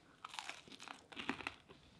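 Bites of a warm pizza-style hot cross bun with cheese and tomato, soft close crunches and chewing in a few quick irregular bursts, faint and alone.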